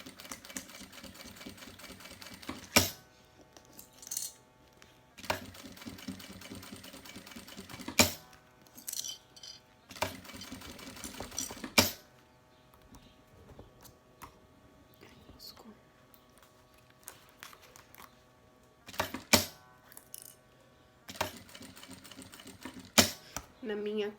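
Sewing machine stitching a synthetic leather vaccine card cover, running in several bursts of a few seconds each with quiet pauses between, close and fairly loud, with soft speech in the gaps.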